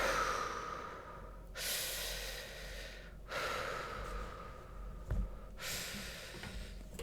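Deep, slow breathing close to the microphone, with about four long breath cycles of drawn-out inhales and exhales separated by brief pauses, plus a small knock partway through and no talking.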